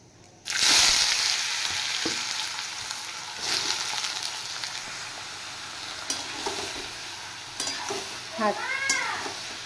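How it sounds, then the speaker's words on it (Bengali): Bottle gourd frying in oil with bay leaf, dry chilli and cumin, giving a loud, steady sizzle that starts abruptly, with stirring scrapes and a cat meowing near the end. "তেজপাতা, শুকনো লঙ্কা আর সাদা জিরে দিয়ে দিলাম। এবার আমি লাউগুলো দিয়ে দেব।"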